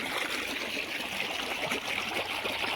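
Irrigation water pours from a pipe into a cumin field, a continuous close hiss and trickle of flowing water with no pauses and no voices.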